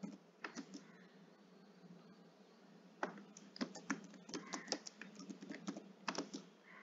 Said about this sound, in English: I'll just type in my password.